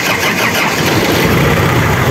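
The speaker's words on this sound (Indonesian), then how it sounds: "Testing dulu start mesin tua." Old car engine starting, a loud, dense mechanical rumble and clatter that stays close and steady throughout, with no voices.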